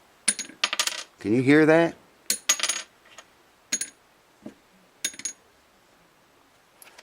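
Light taps on a Tusq bridge saddle of an acoustic guitar give sharp, bright clicks in small clusters, close and crisp against quiet, and a voice briefly speaks between them.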